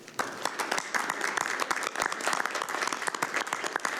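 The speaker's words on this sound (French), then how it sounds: "je pense que vous méritez une bonne main d'applaudissements" Steady applause from the audience at a municipal council meeting, many hands clapping densely and continuously for the full stretch, fairly close and loud.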